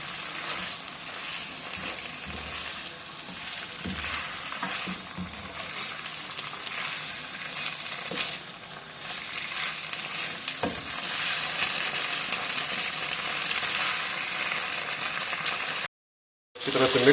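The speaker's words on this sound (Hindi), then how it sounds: "अब इसके अंदर हम स्पैगेटी शामिल कर देंगे। अब इसको हम मिक्स कर लेंगे।" Spaghetti with chicken and vegetables sizzles and fries in a hot pan while being stirred and mixed, a steady close crackle lasting throughout with occasional scraping, ending in a brief silence.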